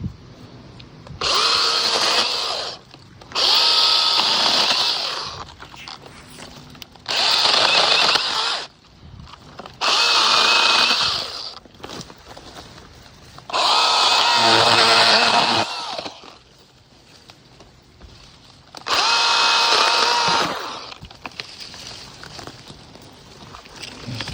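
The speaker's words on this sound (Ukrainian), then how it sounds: "спробуємо його відпиляти, побачимо, як пилка тяне" A Makita DUC150 cordless mini chainsaw cutting a log over 20 cm thick revs in repeated bursts, about six cuts separated by brief pauses, loud and close, with a high whining buzz.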